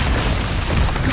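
A Confringo blasting spell explodes in the Hogwarts Legacy video game with a loud, rumbling boom that fills the short moment.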